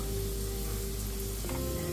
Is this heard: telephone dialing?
no